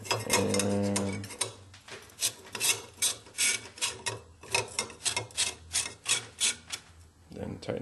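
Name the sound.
tightening quad rail on AR-15 upper receiver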